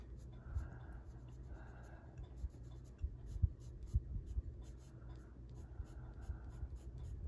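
Colored pencil strokes on a greyscale floral coloring page, starting with canary yellow: a faint, steady scratchy scribbling that runs throughout, quiet and close, with small bumps and taps along the way and no talking.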